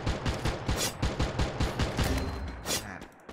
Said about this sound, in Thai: ยิงไม่บอกไม่กล่าว